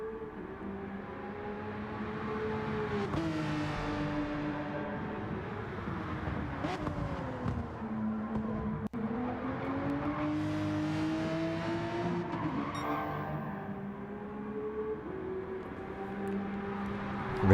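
Race cars in a virtual racing video game at the Nürburgring drone past with engine notes climbing and falling through gear changes, a continuous layered whine of several cars under commentary-style talk.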